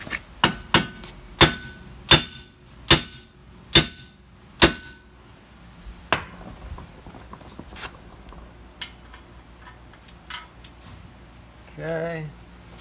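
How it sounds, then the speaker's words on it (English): A sledgehammer pounding a wheel lug stud out of a Mitsubishi Montero hub, ringing metallic blows in a quick irregular series that thin out to a few scattered strikes, ending with a brief rattle. "now we've got to pound that stud out with a sledge."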